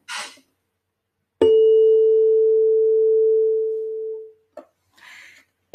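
A steady pure tone rings out for about three seconds, smooth and unwavering, then cuts off, with brief faint noises before and after.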